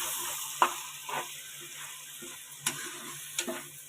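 Tomato paste is stirred into hot oil for an egg gravy curry, giving a faint, quiet sizzle broken by occasional soft scrapes and taps of the spoon in the pan.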